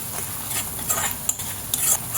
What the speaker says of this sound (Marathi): मध्ये मध्ये असं कांदा जरा परतवायचं म्हणजे खाली लागत नाही